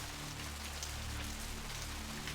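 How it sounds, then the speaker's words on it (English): Steady rain falling on surfaces in the video game Vampire the Masquerade Bloodlines, a continuous hiss with light pattering drops, fairly faint and constant throughout with no voices. "Alright, so it's raining."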